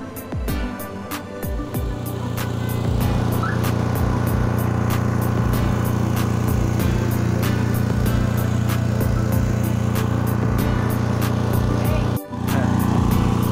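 A motorcycle engine idles and runs nearby with a steady, loud droning hum and a regular ticking pulse, briefly dipping near the end before resuming.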